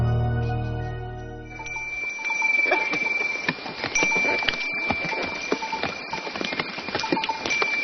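Horse hooves clip-clop on an old mountain trade road in southwest China. Irregular hoof strikes follow a brief musical tone and keep up a steady walking rhythm at moderate distance.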